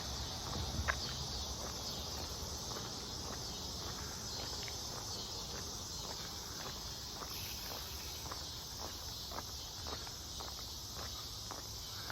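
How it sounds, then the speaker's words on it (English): Cicadas buzz in a constant high-pitched drone that fills the whole stretch, with faint footsteps crunching along underneath, on a creek-side trail in Kansas City. "You can definitely hear the cicadas."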